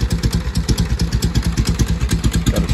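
A 1947 Harley-Davidson Knucklehead motorcycle idles close by, its engine thumping in a steady, lopsided loping rhythm with mechanical clatter riding on top, loud and alone throughout.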